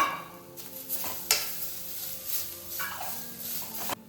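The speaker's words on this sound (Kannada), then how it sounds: "ಇವಾಗ ಇದೇ ಬಾಣಲೆಗೆ ನಾನು ಕಾಯಿ ತುರಿ ಹಾಕ್ಕೊಳ್ತೇನೆ. ಕಾಯಿ ತುರಿ ಸ್ವಲ್ಪ ಫ್ರೈ ಆಗಬೇಕು." Grated coconut stirs and sizzles in a pan, with a spatula scraping and tapping against the metal several times.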